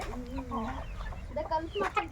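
Chickens clucking on a Telugu family farm among vegetable plants, several short calls close by at moderate level, with a person talking through the clip.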